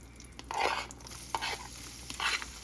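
Olive oil and butter sizzle in a pan while cooking mushrooms, a soft crackling hiss rising in a few short bursts, close and fairly quiet with no talking.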